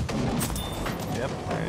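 A tank cannon fires in Battlefield 5, heard as a short, heavy boom with a rumbling tail over a busy battle background. Someone speaks over it.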